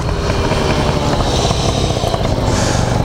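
A Honda Dio 35ZX stunt moped with a tuned engine revs hard at high RPM, a loud, continuous buzzing whine close up.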